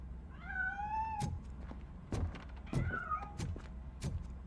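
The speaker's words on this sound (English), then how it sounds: "That cat must be hiding inside." Cat from the video game RoboCop Rogue City escaping: two drawn-out meows, then a few dull thumps and knocks as it scrambles off, fairly close and with no talk.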